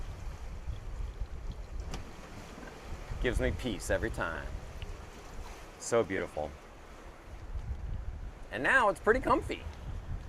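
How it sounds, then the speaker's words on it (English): Wind and ocean waves wash steadily around a Lagoon 450S sailing catamaran under sail with its motors off on an open-ocean passage in French Polynesia, forming a soft, constant background beneath a person talking intermittently. "The motors are off and there's nothing but the sound of the wind and the ocean."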